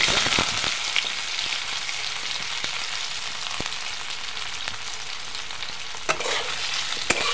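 Green mustard oil heats in a pan for frying in a village kitchen, giving a steady close sizzling hiss throughout, with occasional sharp ticks and spatters.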